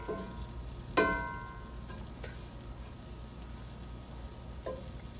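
Fond is stirred and scraped in a pan for a mushroom steak sauce, giving a faint continuous sizzle broken by a few sharp scraping clinks of the utensil against the pan.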